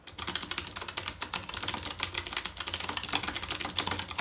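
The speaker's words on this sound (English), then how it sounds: "So here's a little typing test." Rapid clacking of an MSI Vigor GK50 low-profile mechanical keyboard, fast continuous keystrokes in an uneven rhythm, close and fairly loud with no talking.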